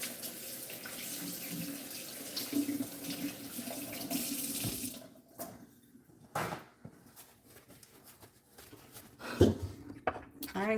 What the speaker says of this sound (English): so I'll wash my hands again